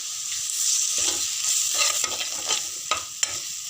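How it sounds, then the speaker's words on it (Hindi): A steady hiss of ginger garlic paste frying in a hot pan for pav bhaji, with scraping and stirring clicks from a utensil, close up and without voices. "अब इसको भी हम डाल के भूनेंगे"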